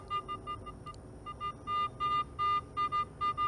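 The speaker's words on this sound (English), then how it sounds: "as I'm getting a very repeatable signal like this" A Garrett CSI-Pro metal detector gives a repeating electronic beep, short pulses that lengthen into longer steady tones as the target signal grows consistent, close and clear.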